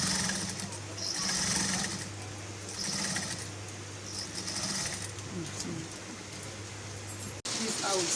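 Sewing machine topstitching a shirt collar, a steady mechanical whirr running in bursts with short pauses, close and moderately loud, while a person talks over it.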